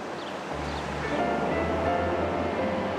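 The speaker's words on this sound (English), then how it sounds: "The ocean is normally a peaceful, loving scene." Ocean waves wash in a continuous broadband rush of surf, loud and close, with a low rumbling undertone.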